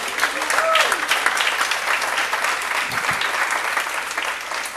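A church congregation claps and applauds together during a Spanish-language sermon, a steady, dense wash of clapping that holds through the whole stretch, with a brief raised voice near the start.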